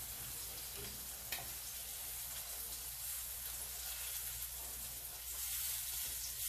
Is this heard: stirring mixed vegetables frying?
yes